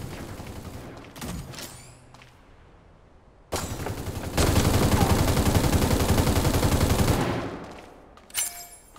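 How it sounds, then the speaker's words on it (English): Gunfire in the mecha shooter game Super Mecha Champions, with a sustained burst of rapid automatic shots that swells loud, holds for several seconds and then fades, after scattered earlier shots. "Shots heard!"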